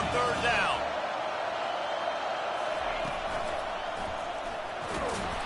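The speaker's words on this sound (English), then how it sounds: "Decibels rising as the crowd gets behind this defense on third down." A stadium crowd in a college football video game roars steadily for the defense on third down: a dense, continuous wall of cheering that stays loud throughout, with a few whoops rising out of it.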